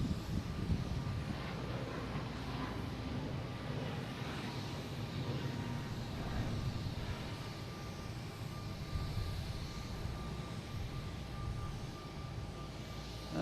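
An Iberia Airbus A321neo airliner takes off at Boston Logan International Airport, a steady, broad jet-engine roar heard from a distance at moderate loudness, with no talk.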